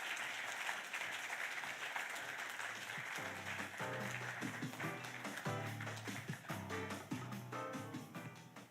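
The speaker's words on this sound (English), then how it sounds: "Another round of applause for Dr. Krier." Applause at an awards ceremony in Swakopmund, Namibia: a steady wash of clapping that thickens as a tonal background rises midway, continuing throughout with no speech.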